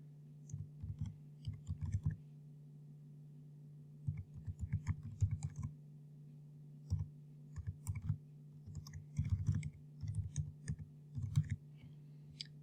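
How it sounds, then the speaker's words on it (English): A username being typed on a computer keyboard: bursts of quick, crisp key clicks with short pauses between them, close and clear over a steady low hum. "we're just going to type in our login details. Firstly, the username"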